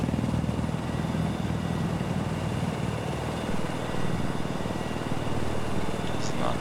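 Attack helicopter in Battlefield 4 gameplay: a steady, droning rotor and engine roar runs throughout at an even level, with a voice talking over it.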